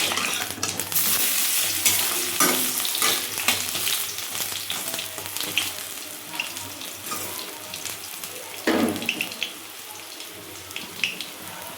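Fritters (bora) fry in hot oil with a dense, loud sizzling hiss, plus bursts of crackling and some clatter as they are turned.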